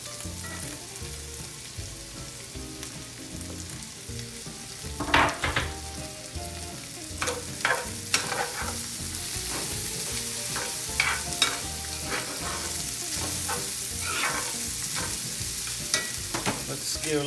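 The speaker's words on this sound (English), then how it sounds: "Let's go ahead and add in those mushrooms." Mushrooms fry in a pan just after garlic, a steady sizzle running throughout with clustered scraping stir strokes around the middle and later, close and alone with no talk.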